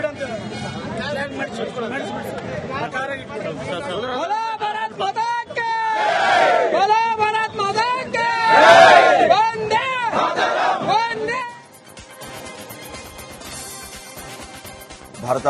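At a flag rally in Raichur, a crowd shouts and chants cheers for soldiers. The loud overlapping voices swell and then drop away near the end.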